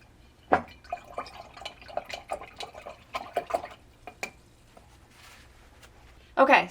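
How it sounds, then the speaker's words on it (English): Paintbrush rinsed in a water cup during an owl painting, giving a series of small splashy taps and swishes, moderately close, ending in a louder burst of sloshing. "Now I'm going to wash off my brush again."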